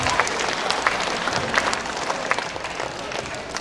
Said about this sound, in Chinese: 各位给点掌声。